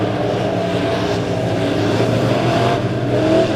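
Modified race cars roar around Springfield Raceway in a steady, loud engine drone that holds throughout, with a slight swell of revving near the end and no talk.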